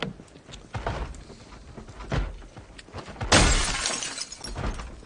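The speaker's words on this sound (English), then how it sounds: "I really don't want to bother a locked, smashing door, because, one, it makes noise." Glass shattering as a locked car door window is smashed in the zombie survival game Project Zomboid, several sharp breaking crashes with the loudest burst near the end, no talking.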